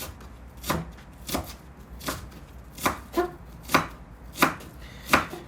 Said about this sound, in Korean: 이렇게 파채를 썰어 봅니다